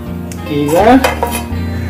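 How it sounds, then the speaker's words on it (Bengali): A lid is closed onto a dough-sealed pot of home-cooked chicken biryani set for dum, giving a short metallic clatter and knock near the middle against a steady low background hum. "Closing the lead."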